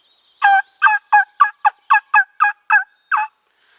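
A handheld turkey call device played to imitate a wild turkey, giving about ten sharp, evenly spaced yelping notes in a steady rhythm, close and loud with clean silence between them and no talking.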